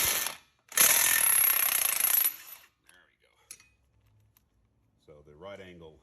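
A DeWalt impact wrench with a 21 mm socket works a strut nut on a 2018 Chrysler Pacifica, delivering a loud, close rattling burst of about a second and a half, followed by faint clinks and someone talking.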